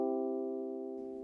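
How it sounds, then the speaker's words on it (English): A sustained, consonant chord of stacked, stable tones rings steadily and evenly at moderate loudness for just over a second, fading slightly before a brief noisy tail at the end. "Chords with very little dissonance sound like this."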